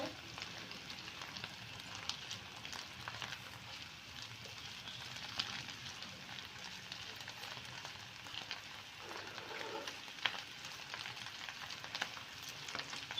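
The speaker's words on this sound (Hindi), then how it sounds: "अब मैं इसमें शुगर भी डाल दूंगी ताकि आहिस्ता आहिस्ता वो भी साथ पिघल जाए और इसमें मिक्स हो जाए।" Sugar cooking into halwa in a pan makes a steady, faint sizzle and crackle, close by, with occasional soft stirring scrapes and small ticks running throughout.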